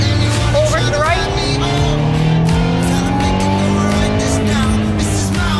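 A race car accelerates hard around a track, its engine note climbing steadily in pitch through sustained loud revs, with brief tire squeal and a voice giving driving instructions over it.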